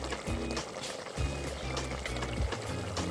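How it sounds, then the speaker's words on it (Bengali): Pieces of fried rui fish slid one by one into a simmering curd (doi) gravy, with a steady bubbling hiss and soft plops and splashes under the liquid's low simmer. "ঝোল ফুটে গিয়েছে, এবার দিয়ে দেবো একে একে ভেজে রাখা মাছ"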